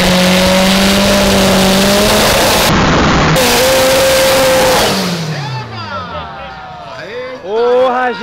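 A GTI car accelerates hard in a street race, loud engine revving and rising through gears up close, followed by other cars roaring past with pitch sweeps; people talk over the start.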